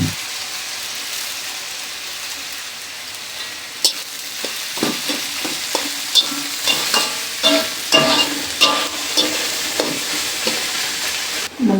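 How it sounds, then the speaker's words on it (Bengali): Chopped onions hiss and sizzle in hot oil with potatoes in a pan, alone and close, with a steady crackle broken by repeated scraping stirs that grow busier as it goes on. "আমি এখন কেটে রাখা পেঁয়াজগুলো দিয়ে দিব।"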